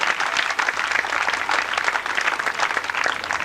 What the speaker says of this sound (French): Merci de les applaudir, ils sont parmi nous quelque part ici